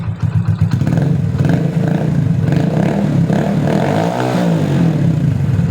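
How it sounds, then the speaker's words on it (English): A 100cc commuter motorcycle fitted with an SC Project aftermarket exhaust runs loud and close, its throaty engine note rising and falling through continuous revving with a rough, rattly edge. "the SC project aftermarket exhaust makes it sound pretty good and pretty loud for a commuter bike"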